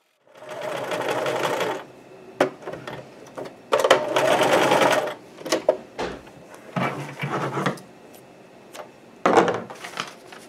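A sewing machine stitches a round cage crinoline in several loud bursts, each lasting about one to two seconds. Short pauses between them carry clicks and handling noises.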